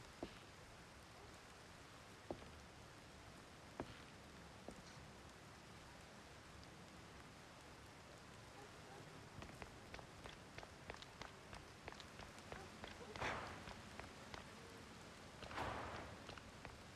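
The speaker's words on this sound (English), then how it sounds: "transitioning from like indoor to outdoor. You get like the implied rain." Rain ambience in the video game Mouse: P.I. for Hire, a soft continuous patter that thickens toward the end, with scattered light clicks and taps over it and no talk.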